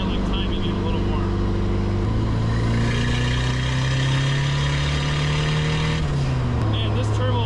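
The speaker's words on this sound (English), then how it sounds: "Man, this turbo spools fast." A turbocharged KA24DET engine swapped into a Datsun 510 revs up, its drone rising steadily in pitch and then dropping, loud and close inside the car, with a voice speaking over it.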